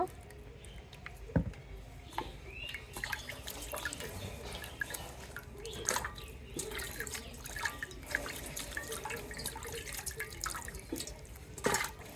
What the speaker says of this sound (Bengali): ভালো মতো ধুয়ে নিব